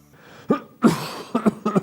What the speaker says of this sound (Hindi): हम खांसते क्यों हैं?